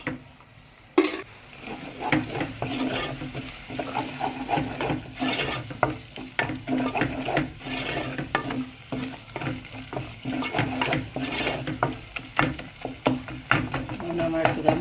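Spices with cumin and chili powder sizzle and fry in a pan while being stirred, for a Bengali-style dried fish dish; steady crackling frying runs throughout, punctuated by repeated scraping stir strokes and utensil clinks, close and moderately loud.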